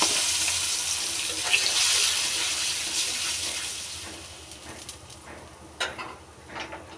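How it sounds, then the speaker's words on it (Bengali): Spice paste added to onions frying in oil in a wok, with a loud hissing sizzle that gradually settles into quieter crackling, followed by a few utensil clatters near the end. "পেঁয়াজ ভাজা কমছি এখন বাটা মশলা দিয়ে দিলাম"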